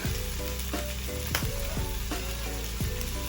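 Garlic frying in hot oil for a creamy steamed vegetable dish, a steady loud sizzle with a few sharper crackling bursts, close up and continuous with no talking.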